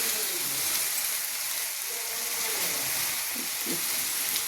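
Ground spices — chilli powder, cumin and coriander — fry in oil in a pan for doi katla, giving a steady close sizzle with faint stirring throughout.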